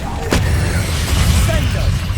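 A Confringo spell blast in Hogwarts Legacy hits with a sharp burst early on, then a heavy low rumble rolls on through the rest of the moment, loud and close.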